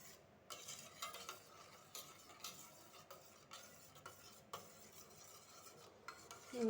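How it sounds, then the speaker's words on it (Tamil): Eggless cake batter being mixed in a bowl, a quiet series of rhythmic spoon scrapes and taps repeating about every half second. "சேர்த்துட்டு இதை நல்லா மிக்ஸ் பண்ணிடுங்க."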